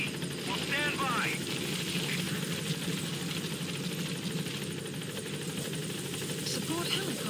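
A support helicopter arrives in Metal Gear Solid V, its rotor and engine making a steady, droning thrum under chirpy game sounds, with a voice speaking over it.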